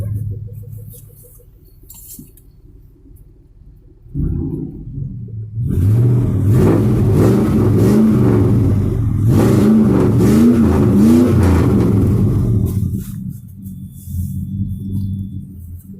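A GMC tow truck engine idles low, then revs up loudly in repeated rising surges for several seconds before dropping back to a rumbling idle.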